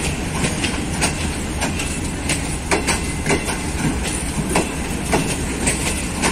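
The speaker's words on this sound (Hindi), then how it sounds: "अब तेजगाम ने डिपार्चर कर लिया है करंट स्टेशन से।" Pakistan Railways ZCU-30 locomotive hauling the Tezgam express out of a station, with a steady rolling roar and rhythmic clickety-clack of wheels over rail joints, loud and close throughout.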